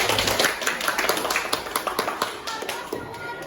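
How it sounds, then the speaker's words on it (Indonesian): A group of students claps their hands during a class presentation session, with a burst of sharp, uneven claps that thins into a scattered, irregular patter of individual claps over a few seconds. "Coba kelompok satu, mana tepuk tangannya?"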